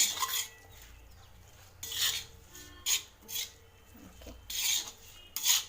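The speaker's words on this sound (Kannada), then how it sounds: "ಲೋ ಫ್ಲೇಮಲ್ಲಿ ತವಾ ಇರಲಿ ಓಕೆ ಈ ಥರ ಫ್ರೈ ಮಾಡಿ" Okra stir-fried on a tawa over a low flame, heard as intermittent dry scraping and rasping strokes of a utensil against the pan, coming in short bursts with quiet gaps and no talk.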